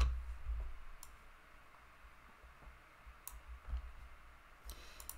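Several sharp computer mouse clicks land at separate moments over a quiet background while working in Tableau software, each a brief, close, isolated tick.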